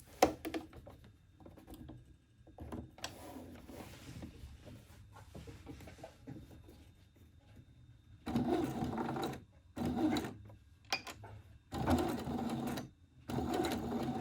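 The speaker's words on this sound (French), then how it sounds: "je vais faire une couture tout autour à 1 cm du bord au point droit de la machine" A sewing machine runs a straight stitch around the edge of a fabric heart-shaped cushion, about 1 cm from the edge, with a quiet stretch early on followed by several loud, steady bursts of motor whirring separated by short pauses.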